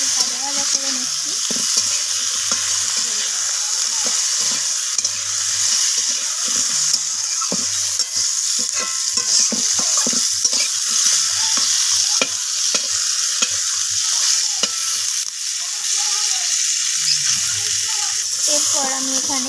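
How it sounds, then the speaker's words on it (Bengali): Flat beans stirred and fried in a pan for a vegetarian curry, with a steady sizzle throughout and frequent scraping and clicking spatula strokes close by; no one talks over it. "সিমটাকে দেওয়ার পর আমি সিমটাকে নাড়াচাড়া করে একটু ভাজা ভাজা করে নিচ্ছি।"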